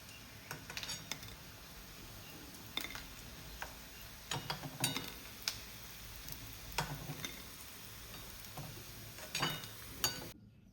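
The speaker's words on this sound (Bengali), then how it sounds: "এই যে কি সুন্দর বাদামি হয়ে আসছে, আর একটু হবে ভাজা, তারপরে আমি তুলে নেব।" Puffed rice fritters (khoi bora) fry in oil with a faint background sizzle, broken by frequent sharp clicks and taps of a utensil against the pan, close and without speech.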